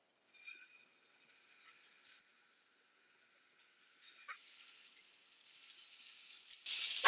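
Kofta patties cooking in hot oil give a soft, steady sizzle that starts faint and grows louder and denser toward the end, with a few light crackles and pops.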